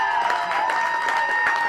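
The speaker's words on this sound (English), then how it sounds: "gets a rousing applause from the fans here in Buffalo" Fans at a Buffalo versus Foley Class C state tournament baseball game applauding a departing pitcher, a steady wash of clapping and cheering from the crowd, moderately loud and continuous, with a commentator's voice over it.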